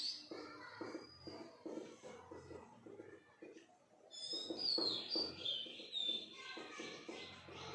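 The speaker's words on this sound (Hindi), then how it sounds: "चिड़िया बोल रही है, चहचहा रही है, यहाँ कोयल भी कूक रही है थोड़ी।" Birds chirp outdoors, among them a koel, with thin, high tweets and calls growing clearer in the second half, heard faintly beneath a person talking.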